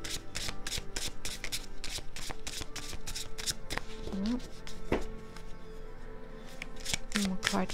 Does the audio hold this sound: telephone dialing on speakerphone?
no